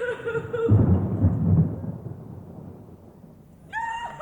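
Deep rolling thunder rumbles loudly, swelling then slowly fading under a steady wash of rain, with a brief high-pitched cry at the start and end.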